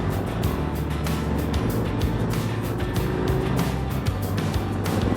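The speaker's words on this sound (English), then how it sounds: "I'm in second gear, engine braking and braking with my" Motorcycle engine braking in second gear on a winding river road, a steady low droning engine note with wind rush throughout, loud and close with no talk over it.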